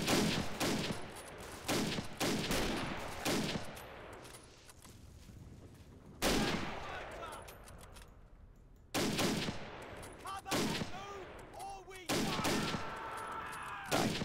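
Rapid bursts of gunfire from soldiers in the World War II video game Men of War, with repeated volleys and sporadic single shots at mid distance, loud and dense throughout, with a voice talking at times.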